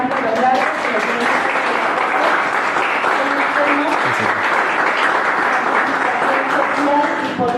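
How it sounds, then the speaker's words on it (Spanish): An audience at a Catholic talk on electoral, political and social responsibility claps loudly and continuously in a dense, sustained wash of applause with no pause. "Demos un aplauso, por favor"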